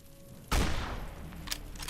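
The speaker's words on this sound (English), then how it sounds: "We got our anti-material rifle, and we are going to snipe." A single sharp anti-materiel sniper rifle shot booms in the Fallout video game, loud and close, then rolls off into a decaying echo while faint game sounds continue.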